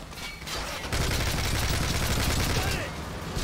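Dense bursts of automatic gunfire in Call of Duty Modern Warfare 3, a sustained fusillade of rapid shots filling the scene at close range with a short gap early on.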